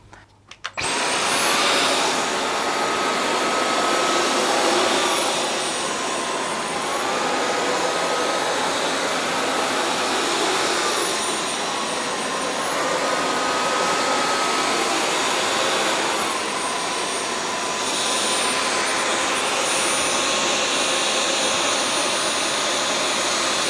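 Dyson V12 Detect Slim cordless vacuum cleaner running on worn short pile carpet, a loud steady high-pitched whine and airflow roar held throughout with slight pitch shifts as it is pushed back and forth.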